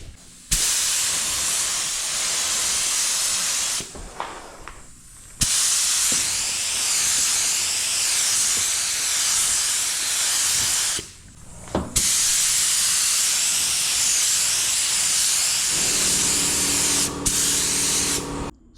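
Bursts of spray gun hiss laying paint coats over primer on a BMW 335is car panel, several long continuous passes broken by brief pauses, loud and close with no talking.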